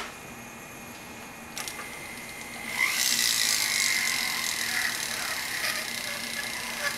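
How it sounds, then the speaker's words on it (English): A flex shaft rotary tool hollows out a size 7.5 ring. After a brief faint start, a fairly quiet high whine rises and holds steady, shifting in pitch as it grinds against the metal. "you never actually want to put the flex shaft at full speed"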